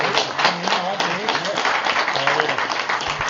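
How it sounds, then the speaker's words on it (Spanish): Listeners clap at the end of a talk on the symbolism of the cross, giving a steady spread of applause while voices speak over it. "yo creo que se merece un aplauso"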